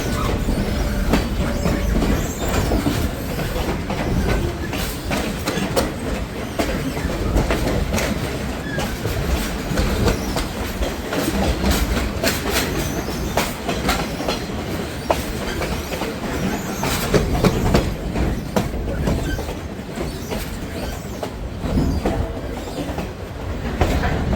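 Great Smoky Mountains Railroad steam engine 1702 pulling an excursion train along the Tuckasegee River, with steady rumbling rail noise, repeated clickety-clack of wheels over joints and occasional wheel squeal, continuous and fairly close throughout.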